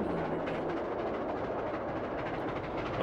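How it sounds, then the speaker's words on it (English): A special passenger train heading back to Melbourne rumbles along steadily, its wheels and carriages giving a continuous, moderately distant roar with faint rhythmic clatter and no talk. "R761 heads back to Melbourne with its special train."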